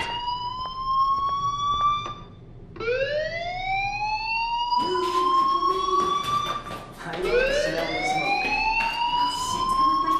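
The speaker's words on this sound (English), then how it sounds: "do you hear that fire alarm?" An electronic fire alarm sounds inside the high school in the video game Life Is Strange, loud and continuous, with repeated rising whooping tones that sweep upward one after another.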